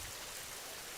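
Steady rain falling in a hard, even hiss with no breaks, close and loud, with nothing else heard over it.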